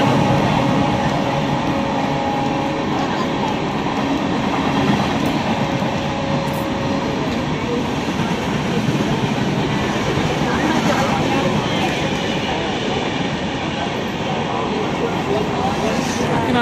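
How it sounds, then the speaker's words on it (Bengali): A train rumbles past close by with a steady, loud broadband roar lasting throughout, and people talk over it. "ট্রেন যাচ্ছে"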